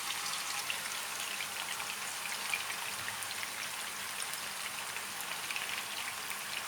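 Meatballs frying in hot oil in a pan, a steady crackling sizzle with dense fine pops that holds evenly throughout, close and fairly soft, with no voices.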